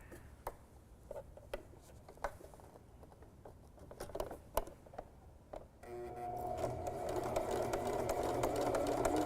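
A sewing machine runs a slow straight stitch through the thick layers of a small fabric mouse ornament's ear, a steady close whir starting after several seconds of soft handling taps and rustles, with no talk.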